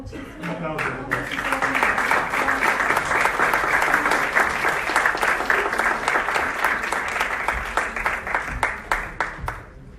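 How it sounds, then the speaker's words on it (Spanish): A seminar audience applauds after an award is presented, a dense sustained round of clapping that fills the room for about ten seconds, with scattered individual claps as it tapers off. "Un aplauso, por favor."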